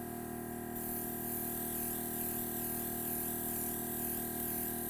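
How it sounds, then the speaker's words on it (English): Airbrush spraying food colouring onto a cake inside a small spray booth, a continuous close hiss with a steady tonal hum underneath and no talking. "you can use that as a little spray booth, you won't get the colour flying everywhere"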